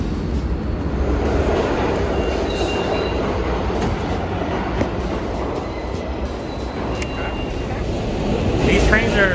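A New York subway train rumbles along at speed, a loud continuous roar of wheels and carriage with faint clacks and a brief squeal near the end, while passengers chat over it.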